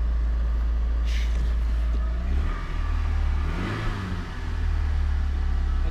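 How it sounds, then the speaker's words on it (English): A Nissan 240 engine idles at a steady, elevated rumble close by, surging briefly as if revved before settling back to a high hum. "My idle's so high."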